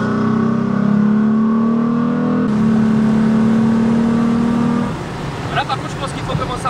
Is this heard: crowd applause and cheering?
no